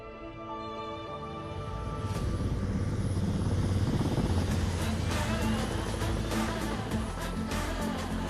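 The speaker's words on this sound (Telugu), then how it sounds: "ఇది ఎవడో హెలికాప్టర్ వేసుకొచ్చాడు." Helicopter arriving, its engine and rotor thrum swelling from quiet to loud within a few seconds and then holding steady as it comes close overhead.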